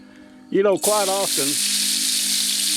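Blackened catfish frying in a skillet outdoors, a loud steady sizzle that bursts in and holds on after someone speaks briefly over the start.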